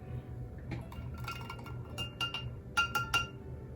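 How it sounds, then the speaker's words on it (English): Glass fountain pen ink bottles clink together in a quiet room, a scatter of light, bright taps that grow into a few sharper clinks near the end, with no talking. "You guys hear the clinking of everything."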